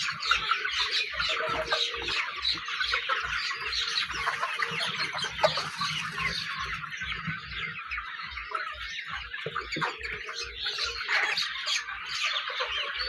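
Sonali hybrid chickens cluck continuously as a flock drinks water together, overlapping calls with a steady low rhythmic tapping of pecking beneath.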